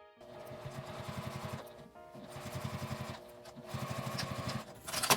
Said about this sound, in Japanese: 今回はミシンで端を閉じておきます。